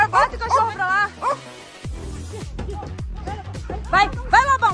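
Several dogs bark and yip close by in repeated bursts, a larger dog adding deep woofs, while people talk and call out over them near a truck bed.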